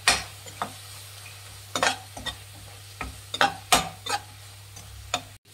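A utensil stirs a tomato mixture with turmeric and chilli powder in a pan, giving irregular scraping clicks and knocks over a low sizzle, close and clear with no talking.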